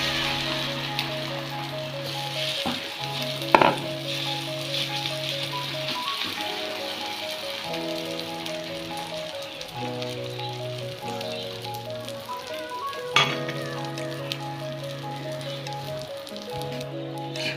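Egg omelette batter frying in a hot pan, a steady crackling sizzle running throughout under a loud melodic music track, with a couple of sharp knocks.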